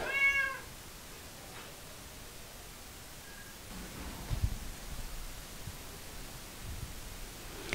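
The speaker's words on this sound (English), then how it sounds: "Come on down, you Siamese lovers, and meet Sheba" A Siamese cat lets out one short, clear meow at the start, then the recording settles into a quiet, hissy background with faint rustling and light handling noise.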